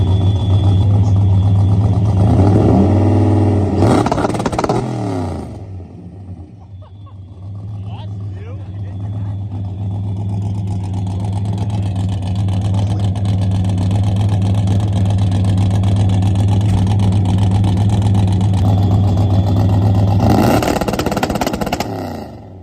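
A Volvo race car's engine held at about 4,500 RPM on a two-step launch limiter, a loud steady drone running through most of the stretch, with people talking near the start and again at the end.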